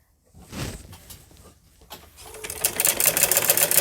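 A sewing machine stitches salwar fabric, its needle chattering in a fast, steady burst that starts faint and builds louder toward the end, heard alone without talk.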